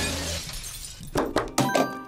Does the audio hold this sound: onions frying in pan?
no